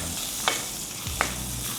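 Chopped garlic cooking in butter in a pan, a steady soft sizzle with a couple of brief stirring clinks, heard alone with no talk.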